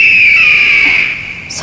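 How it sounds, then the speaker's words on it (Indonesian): A single shrill, sustained eagle call rings out loud and close, holding a piercing tone that slowly fades over about a second and a half. "itu suara burung Raja Wali"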